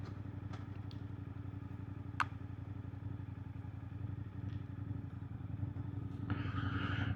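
A Suzuki GSX-8R middleweight sports bike engine drones steadily under riding, a low rumbling throb heard faintly and constantly, with a brief click and rising noise near the end.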